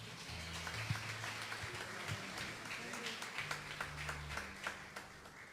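Congregation clapping at a church family seminar, steady moderate applause with scattered claps over a low musical drone from the hall.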